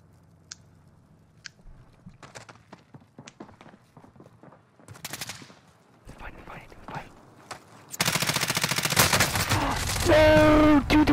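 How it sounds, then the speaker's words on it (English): A video game firefight between players grows from scattered faint pops into a loud, dense burst of rapid gunfire near the end, with players whispering and talking throughout. "they're shooting each other!"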